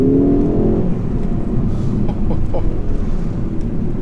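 A 2017 Ford Focus ST-3 engine accelerating hard with traction control off, a loud steady rumbling drone close inside the cabin, with brief faint voice bits over the engine noise.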